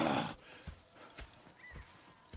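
Horse hooves clip-clop at a walk, with a short whinny near the start, all over a faint background hum, in Red Dead Redemption 2.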